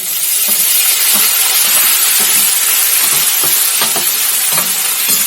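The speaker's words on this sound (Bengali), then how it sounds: "পেঁয়াজ ভাজা হয়ে গেছে মশলাগুলো দিয়ে দেবো" Spice paste of cashew, poppy seed, cumin, green chilli, mustard and garlic sizzles in hot oil with fried onions, a loud, constant frying hiss broken by light stirring clicks.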